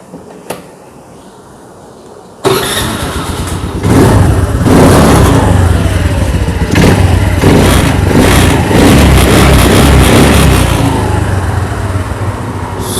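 Honda Dio BS4 scooter engine fired up after an air filter cleaning. It catches after a short quiet lead-in, then runs loud and close with rising revs held for several seconds.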